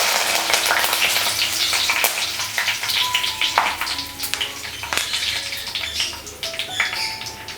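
Curry leaves, mustard seeds and fenugreek seeds sizzle in hot oil for a paneer kulambu, a loud, steady crackle broken by sharp pops and the occasional clink of a spoon stirring.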